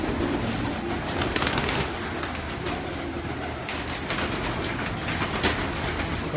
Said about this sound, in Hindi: कबूतर ही कबूतर है कबूतर